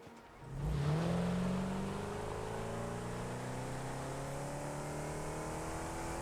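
A vehicle in the factory-building video game Satisfactory starts up and drives off, its engine rising to a steady droning hum that holds loud and even throughout, with no talk.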